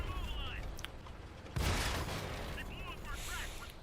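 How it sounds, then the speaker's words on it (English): Artillery shell striking a tank in the video game World of Tanks, a heavy crashing boom that lands midway amid ongoing battle noise and gunfire, with someone talking throughout. "I've actually managed to take a massive hit from artillery just now, and I'm about to take another one because there it is"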